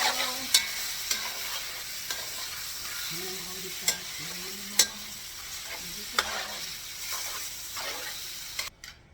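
Tomato hits a hot pan and sizzles softly while being stirred, with several sharp scrapes and clicks of the utensil against the pan over a low, steady frying hiss.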